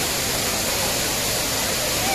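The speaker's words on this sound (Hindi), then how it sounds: "अभी इस समय हम लोग बिल्कुल प्यूरी फॉल के अंदर में है" Kempty waterfall in Mussoorie roars from inside the falls, a loud, dense, unbroken rush of water filling the whole clip.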